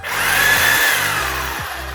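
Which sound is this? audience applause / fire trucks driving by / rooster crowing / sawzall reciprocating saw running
sawzall reciprocating saw running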